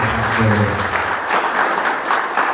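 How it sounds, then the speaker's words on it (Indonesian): A seminar audience in Tasikmalaya applauds, a dense and steady wash of clapping from many hands that fills the room, with a voice briefly audible at the start. "Kasih aplaus dulu dong"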